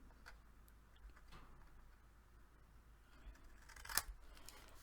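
Scissors trimming paper for a farmhouse-style coupon folio, faint sparse snips and ticks close by in a quiet room, with one sharper click near the end.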